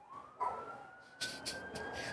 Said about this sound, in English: Let's let the ambulance go.